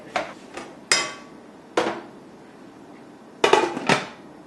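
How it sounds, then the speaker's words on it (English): Metal spoon clanking against a pan while stirring beef and onions, a series of sharp scraping knocks at irregular intervals, close and alone without talk. "It's time to take a spoon and mix them around a bit."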